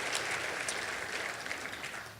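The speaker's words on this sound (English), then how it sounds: "Please give them a round of applause and thank them for their service." Audience applause for city council members at a chamber of commerce economic outlook breakfast, a steady wash of many hands clapping at moderate level that fades slightly toward the end, with no talking.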